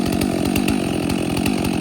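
A chainsaw cuts into a large fallen oak trunk close by, its engine snarling loud and steady with a rapid chugging pulse throughout and no voices.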